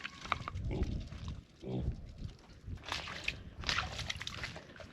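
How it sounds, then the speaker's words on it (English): Pigs grunt and snuffle in a farm pig pen, with low rooting grunts and squeals mixed with shuffling, sloshing movement close by, at a moderate, uneven level. "this is where we keep pigs, you know? It's the pig pen."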